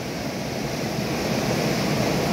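Sea waves breaking at Puerto de la Libertad beach, a steady broadband wash of surf with some wind noise, continuous and fairly close, with no voices.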